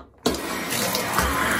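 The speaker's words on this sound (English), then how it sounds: "Now when I pull it, the water may turn on." Water bursts on suddenly after a quiet moment as a Moen shower handle is pulled, then runs as a steady, loud, close spray.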